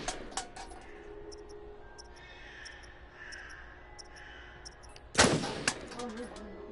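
Gunfire in the Until Dawn video game: a loud, sharp burst of shots near the end, rising from a quieter game backdrop with faint ambient tones.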